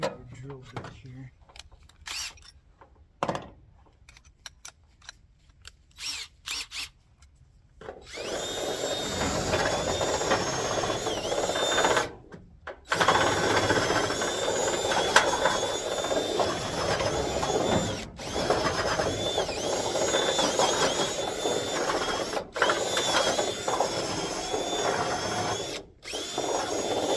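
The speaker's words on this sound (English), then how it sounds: "I think I got a little bit bigger drill bit here." A power drill driving a bigger bit, quiet handling and clicks at first, then a loud sustained whirring grind that runs almost continuously, broken by a couple of brief pauses.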